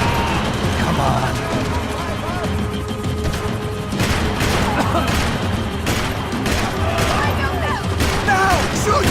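Gunfire in the video game Max Payne 3: a dense run of shots and crashing impacts keeps going for the whole stretch, loud and close, with game voices and effects mixed in underneath.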